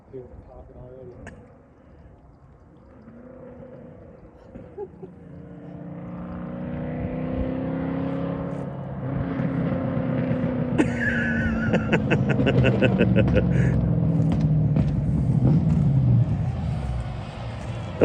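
A 1971 Chevy K20 flatbed truck engine revs and builds in volume, with a steady rumble and scattered sharp pops crackling through toward the end. People talk over it.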